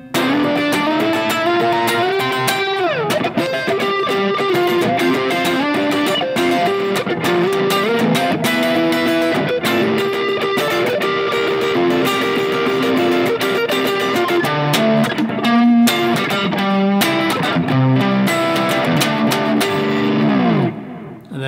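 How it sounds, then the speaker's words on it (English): A distorted, overdriven electric guitar plays a busy solo line in doubled octaves over a full band backing, loud and sustained throughout. "We've got a dirty overdrive sound on again,"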